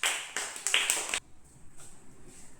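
First- and second-class children in a classroom give a brief burst of group clapping, a few quick claps lasting about a second, then it drops to faint, scattered taps.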